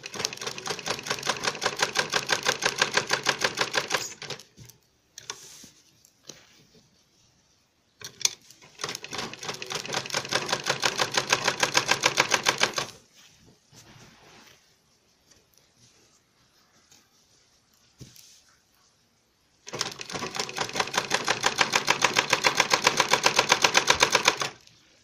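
Sewing machine stitching a zip pocket on a bag, three long runs of rapid, even mechanical clatter separated by quiet pauses with faint handling noises.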